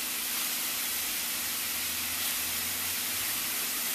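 Ground meat browns in a pan over medium-high heat, producing a continuous broadband sizzle and hiss with a faint low hum beneath, steady throughout.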